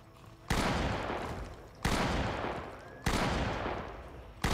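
Three heavy shotgun blasts at zombies in Project Zomboid, each a sharp loud crack with a long decaying tail, evenly spaced about a second and a half apart, with a fourth starting at the end.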